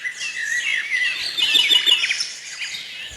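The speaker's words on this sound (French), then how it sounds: "les oiseaux chantent, picorent" Several small birds at a garden feeder chirp and twitter rapidly, with bright overlapping high calls and trills, close and fairly loud, and no voices.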